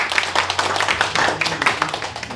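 An audience at a cultural forum of a Chinese American history museum in Philadelphia claps to welcome the museum's founder and chairman to speak. The clapping is dense, close and lively, with some voices mixed in.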